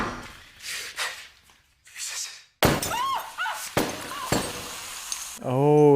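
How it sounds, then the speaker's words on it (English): Glass bottles bursting in a Breaking Bad scene, a series of sharp breaking and clinking bursts over scattered voices and background noise, ending in a sustained ringing tone. "Oh, it's his bottles exploding."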